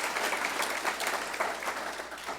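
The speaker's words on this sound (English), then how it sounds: "How about a round of applause for Dave and Josh and the team here in Flori" Audience applause at an anniversary event held at Florian Gardens, a steady crowd clapping that stays loud and even throughout, with no voices over it.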